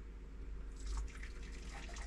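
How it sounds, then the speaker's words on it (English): Water being poured into a pan in a motorhome kitchen, a soft continuous splashing and trickling close by over a low background hum. "So what I want to do now is put this water in here."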